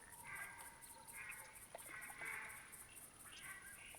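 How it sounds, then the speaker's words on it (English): A flock of mallard ducks flying in during a duck hunt in theHunter Classic, several quacks overlapping at a distance, faint and intermittent over a quiet background. "New flock coming in. And I believe it's mallards."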